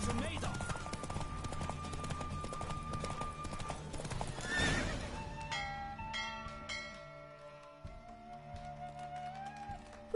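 A horse in The Witcher III video game, steady rapid hoofbeats with a whinny amid game music, fading around the midpoint into calmer music and chimes.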